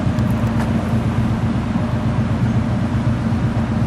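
A 1953 Mercury Monterey convertible's engine revs and holds a loud, continuous 1950s rumble up close, a deep steady roar with no voices over it.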